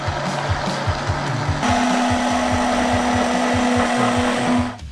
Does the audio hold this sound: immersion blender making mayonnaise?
yes